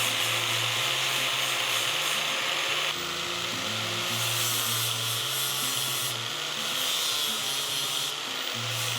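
Steady, close scraping and rubbing as paint is shaved off a metal link on a King Kutter Pro box blade, continuous with slight shifts in pitch and pressure, alongside a low humming background.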